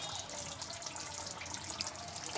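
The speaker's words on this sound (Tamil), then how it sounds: "ஸோ பார்த்தீங்கன்னா சிக்கன் வேகிற அளவுக்கு கொஞ்சம் தண்ணி ஊற்றிக்கலாம்." Quiet, steady stream of water being poured into cooking chicken gravy, a soft continuous trickle heard alone.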